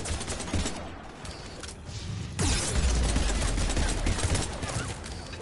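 Rapid gunfire in the shooter game Mass Effect 3, a dense continuous barrage of shots that grows louder and heavier midway, filling the scene with no speech over it.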